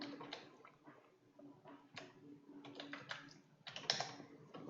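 Close clicking of a computer keyboard as an SQL select query is typed, uneven bursts of keystrokes with brief pauses and no talking.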